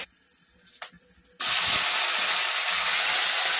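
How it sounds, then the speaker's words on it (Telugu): Tempering seeds and red chilli hit hot oil in an idli-breakfast kitchen, a faint clatter giving way to a loud, steady hiss of sizzling that fills the rest of the stretch without any talking. "ఇప్పుడు ఆయిల్ వేడైనాక పోపు గింజలు వేసుకుంటా."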